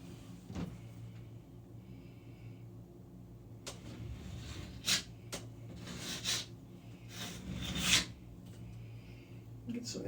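A wet card is drawn across bathroom ceiling plaster to smooth it, giving faint scraping rubs that come in a few short, separate strokes over low steady background noise.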